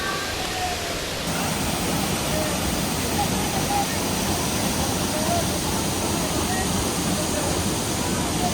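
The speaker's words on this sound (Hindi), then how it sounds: "ये पानी गिर रहा है इसके ऊपर" Bhima river water pours onto the shivling at Gupt Bhimashankar in Maharashtra as a loud, steady, broadband rush that fills the whole span without pause.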